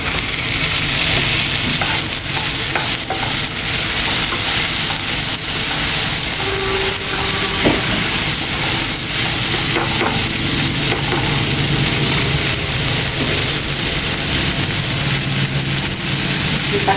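Onions and tomatoes sauté in a pan for a Puducherry roadside-style vegetable salna, giving a continuous close hiss and sizzle with faint stirring scrapes and no talk.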